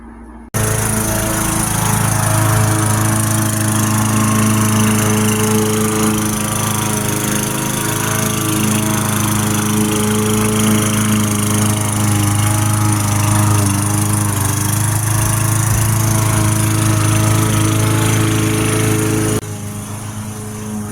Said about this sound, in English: Hubby's out mowing the lawn, guys.